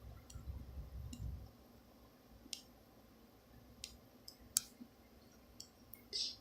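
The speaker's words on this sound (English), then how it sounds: "because these scissors are slightly curved, so when I'm trimming, I can kind of just go with the curve of the head" Curved scissors nip at the silicone head of a baby doll, giving faint, sparse snips and clicks spread across a quiet stretch after a brief muffled rustle at the start.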